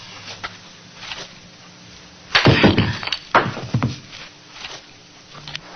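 Rocks are cracked open in a geology setting: several loud, sharp breaking impacts come one after another in a brief cluster near the middle, with quiet stretches before and after.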